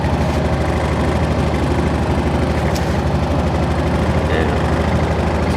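A vehicle engine with automotive-style headlights idles just after starting, a loud, steady low rumble with constant vibration running unbroken and close, with no talk over it.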